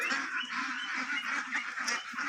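A flock of about a thousand domestic ducks on a Bangladeshi farm, calling continuously in dense overlapping quacks and honks, fairly close and steady throughout with no talk.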